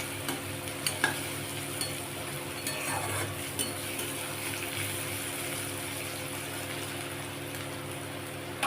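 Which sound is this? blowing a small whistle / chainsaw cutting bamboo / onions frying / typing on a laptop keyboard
onions frying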